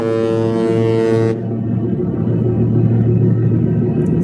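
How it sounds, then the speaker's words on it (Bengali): A City Group cargo ship on the Meghna River near Bhola sounds a loud, deep horn blast, which cuts off after about a second. A steady engine and water rumble follows close by. "সিটি বাষট্টি এটা সিটি গ্রুপের একটা জাহাজ এটা বর্তমানে আমাদের সাথে আজকে সেলিং করেছে"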